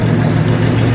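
A 1962 Plymouth Savoy with a non-stock 440 engine running loudly, giving a close, steady, deep rumble for a brief moment.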